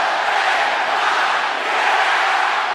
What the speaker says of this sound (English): So you've got them chanting your name now